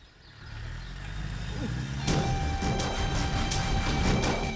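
A motor vehicle engine rises into a steady rumble as it pulls away, growing louder over a few seconds with faint tonal whines and clatter above it, heard without any talk.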